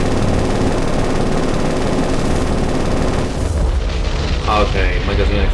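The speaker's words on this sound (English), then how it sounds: "Okay, magazine explosion." Ship magazine explosion in the naval video game War on the Sea, a loud, sustained booming roar of blasts that fades into rumbling tail-off, heard without talk.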